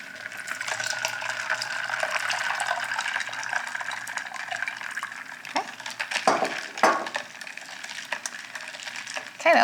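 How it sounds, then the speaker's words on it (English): Water poured into a gallon of sweet tea being stirred, a steady filling splash running under a quiet kitchen, with a few clinks and knocks near the end and faint talk in the background. "then we'll just add some water to make a gallon"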